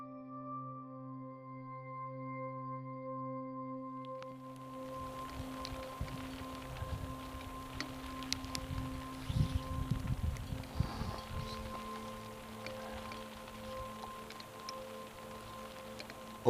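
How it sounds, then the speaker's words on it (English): Rain falls overnight on a windy car campsite at Mt Thielsen, a steady soft patter with gusts of wind and scattered drips, louder and busier in the middle, over a faint tonal hum at the start. "Overnight, the wind picked up and the clouds moved in, and it began to rain."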